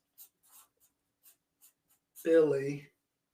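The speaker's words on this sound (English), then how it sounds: "So let me write that down." A pen scratches out handwritten words in soft, brief strokes at a live scratchboard inking session. Faint, close scribbles come in irregular bursts, and a person starts speaking near the end.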